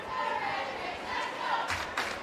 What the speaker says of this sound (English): Crowd starting to make a bit of noise in the crowd as well.